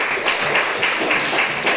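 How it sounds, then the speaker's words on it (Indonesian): A classroom applauds a student group, a brief burst of many hands clapping at a steady, close, moderately loud patter. "Mari kita tepuk tangan untuk kelompok ini."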